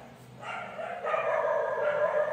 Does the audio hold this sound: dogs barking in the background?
yes